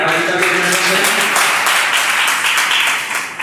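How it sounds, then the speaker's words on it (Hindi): Audience at an honor ceremony of the Akhand Bharat Shaktipeeth Trust gives loud, dense applause, a continuous wash of clapping with talk mixed in. "एक बार जोरदार ताली बजाकर"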